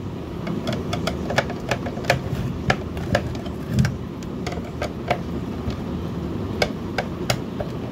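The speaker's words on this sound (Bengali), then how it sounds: "চার কোণে চারটে স্ক্রু লাগিয়ে দেবো" Screws are driven into the four corners of a mixer grinder during a motor repair, giving faint, irregular ticks and clicks over low background hum.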